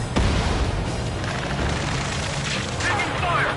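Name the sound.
gunfire and explosions in Ace Combat 7 video game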